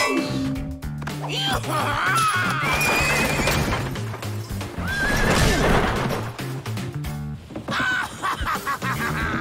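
Horses whinny repeatedly over a busy clatter of hooves, with shouting and clanking mixed into the loud, chaotic scene.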